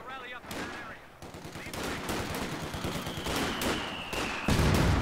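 Mortar and gun fire in Company of Heroes 2, a World War II strategy game: rapid bursts of gunfire and heavy thumping blasts pile up into a loud, continuous battle din, with voices shouting over it.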